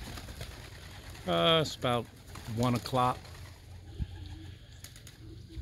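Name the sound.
pigeons cooing in a loft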